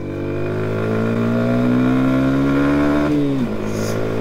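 A Yamaha MT 125 four-stroke motorcycle engine drones steadily while riding, its pitch rising gradually under acceleration before dropping sharply as the throttle closes. The sound is close and fairly loud, and no one talks over it.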